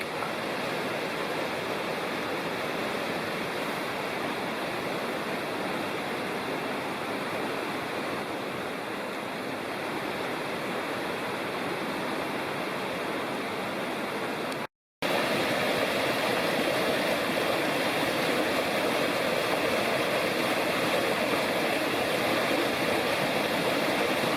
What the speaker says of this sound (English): Here are some videos of Kirkland Creek as the trail follows it up the valley